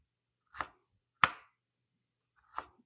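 A knife slicing carrots thinly on a cutting board, three sharp separate chops with pauses between them, close and clear against silence.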